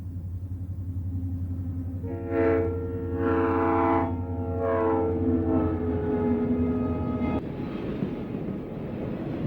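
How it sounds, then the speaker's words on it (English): A Santa Fe freight train led by GP35 diesel locomotive number 3397 sounds a loud, drawn-out multi-chime horn in several blasts over a steady engine rumble, then rolls on with rising wheel and rail noise. "a train is led by engine number 3397, a model GP35"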